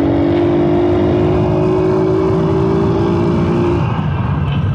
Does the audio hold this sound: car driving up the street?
yes